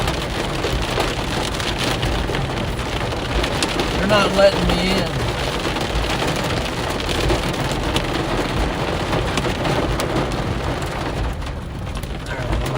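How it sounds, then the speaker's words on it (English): Heavy rain and hail pound a parked car during a thunderstorm in Salina, Kansas, a dense continuous roar of drumming impacts, loud and close, with someone speaking briefly over it. "I don't want the hail to hit me."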